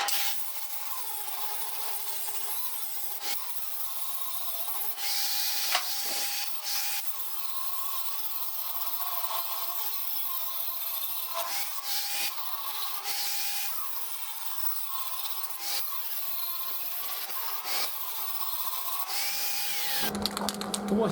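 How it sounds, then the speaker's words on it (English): A power tool grinds welds off the back of a dump trailer, giving a continuous harsh, high-pitched abrasive whine with small shifts in pitch and pressure, close up and without talk. "Now we're going to get these welds off the back of the trailer to prepare to get those 4-inch strips on it."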